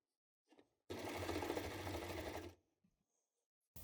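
Sewing machine stitching a ribbed cuff onto a sweater at a 0.7 cm seam allowance, one steady burst of fast, close machine whirring lasting under two seconds, with faint handling clicks before and after.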